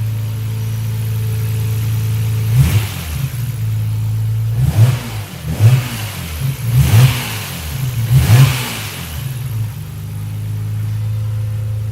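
A Nissan 300ZX fitted with an RB26 engine and a new exhaust idles steadily with a low rumble, then gets several quick, sharp throttle blips that flare up and drop back to idle.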